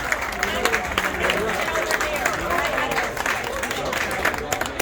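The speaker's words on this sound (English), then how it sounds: "So we would just want to take a minute and applaud everybody." Audience applause at a Firestone High School class of 1973 reunion, steady dense clapping with crowd murmur mixed in, sustained at even loudness throughout.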